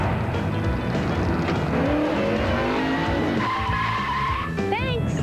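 A NASCAR race car roars along with loud engine noise, tires squealing and skidding sharply toward the end in a dense burst of racing sound.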